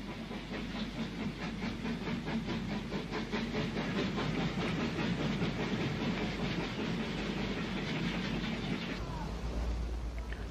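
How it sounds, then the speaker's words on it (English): A train runs along rails in Wales near Vachroo Station on a damp December day, its steady rhythmic clickety-clack and hissing roll heard close and loud without pause. "the train calls at Vachroo Station."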